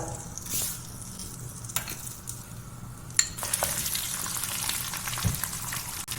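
Mustard seeds and a spoonful of rice crackle and sizzle in hot oil, frying steadily close up, with scattered pops and a few sharp clicks of a spoon against the pan.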